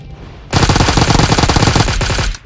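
An MK rifle fires in PUBG Mobile as a loud, rapid burst of about two seconds. The shots come close and evenly spaced, then stop abruptly, and no one speaks.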